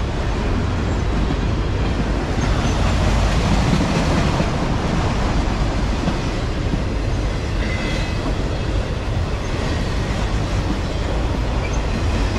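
Norfolk Southern freight train 11N rolls slowly past close by with a rear DPU, its loud continuous rumble and wheel clatter steady throughout, with faint squeals at times.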